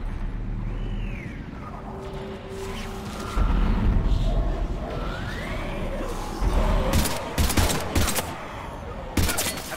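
Gunfire in the video game Mass Effect 3 crackles in loud bursts and single shots over a rumbling combat background, heaviest in the later seconds.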